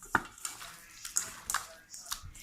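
Seasoned pollock fish pieces mixed in a bowl, giving a handful of close, quiet clinks and wet shuffling taps spread irregularly across a couple of seconds.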